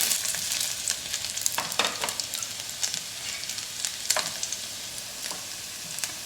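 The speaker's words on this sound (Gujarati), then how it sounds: "તેલ ગરમ થાય એટલે આપણે બાફેલી બટેકી લીધેલી છે તે ફ્રાય કરી લઈશું" Boiled baby potatoes frying in hot oil, a steady close sizzle with occasional sharp clinks and scrapes as they are turned in the pan.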